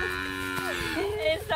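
A cow moos once, a drawn-out close lowing call that rises and bends in pitch, heard outdoors with light background noise and a faint voice nearby.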